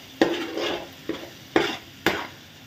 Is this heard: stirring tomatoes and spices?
yes